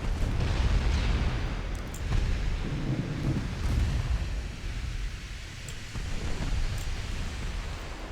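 Naval guns firing in a WWII-era naval warfare strategy game with an Italian campaign: a continuous heavy rumble of distant booming salvos and rolling blasts, dense and unbroken, with no voices.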